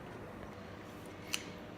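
Scissors snip through a thick aloe vera leaf, two short crisp cuts against a steady hiss of room noise.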